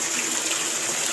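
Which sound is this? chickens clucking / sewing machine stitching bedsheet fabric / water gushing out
water gushing out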